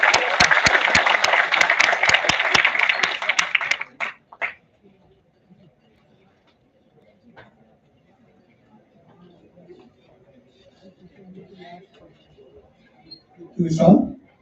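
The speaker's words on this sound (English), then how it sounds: "Can we have a round of applause for Ajay, sir?" Audience applause for a speaker at a national seminar, a loud, dense burst of clapping for about four seconds that breaks off abruptly, followed by quiet room sound and scattered faint noises.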